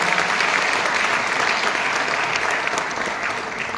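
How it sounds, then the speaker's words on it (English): An audience at the launch of an IVF centre claps in sustained, dense applause, loud and even throughout with no talk over it. "So a big round of applause for Dr."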